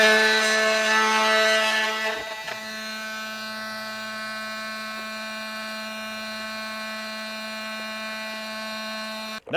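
A rotary cutting tool whines steadily while trimming clearance into a plastic bumper bezel for a Roadmaster base plate install on a 2021 vehicle, a high sustained tone that dips briefly around two seconds, then runs on until it cuts off at the end.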